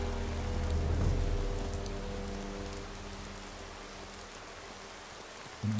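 Steady rain hisses in Gothic II running the Returning New Balance mod, a dense, even wash of falling water under a low musical drone, alone and fairly quiet throughout.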